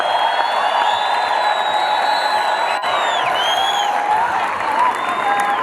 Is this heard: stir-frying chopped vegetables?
no